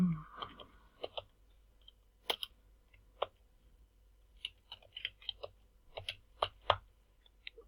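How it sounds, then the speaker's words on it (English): Sparse, irregular keystrokes on a computer keyboard while entries for a work breakdown structure go into Microsoft Project: close, crisp clicks in short bursts with quiet gaps and no talking. "So I'll start off by typing up my work breakdown structure."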